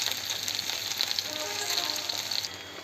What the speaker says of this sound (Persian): رب گوجه، اینو تفتش میدم